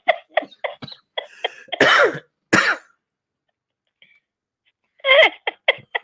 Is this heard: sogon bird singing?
no